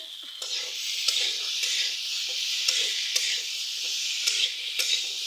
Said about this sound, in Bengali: এখানে মা তরকারি রান্না করছে